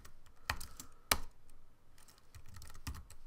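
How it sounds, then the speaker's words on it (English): Keys clack on a computer keyboard as a password is entered to log into a VNC server over SSH on a Raspberry Pi, a short burst of separate taps with a few louder strokes, close and alone with no talking. "We type in our password"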